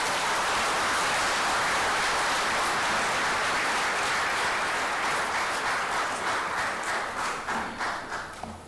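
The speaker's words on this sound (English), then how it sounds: "A big round of applause, please." An audience applauds in an auditorium at an Antarctica Day ceremony, with dense, loud clapping that thins out near the end into a few separate claps.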